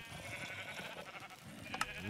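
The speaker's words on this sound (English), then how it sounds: "So you can push to make even kill this brave little sheep back there" A faint Minecraft sheep bleats softly amid low background game noise, a short wavering cry rising near the end, with no speech.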